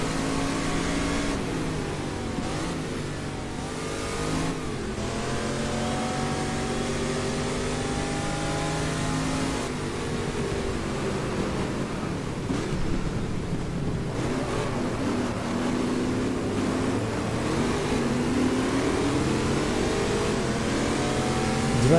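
A racing car engine revving hard in the GTLegends video game during a drag race with an AC Cobra, a loud sustained whine rising and falling in pitch through gear changes, heard alone without talk.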